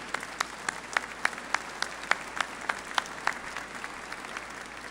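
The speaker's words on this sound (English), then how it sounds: "Let's have a round of applause for Aspen." Small audience at a navy ship christening in a shipyard, light scattered clapping with distinct individual claps popping out in a loose rhythm, moderately distant and soft.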